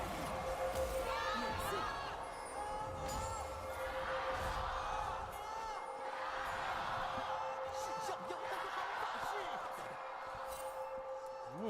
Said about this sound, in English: it sounds like we do have a bit of a split crowd